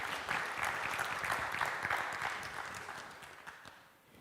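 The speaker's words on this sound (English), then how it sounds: "clap it up" An audience at a high school senior project presentation applauds, a dense burst of clapping that holds steady before thinning out and fading near the end.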